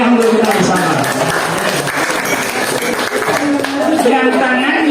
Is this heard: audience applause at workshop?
yes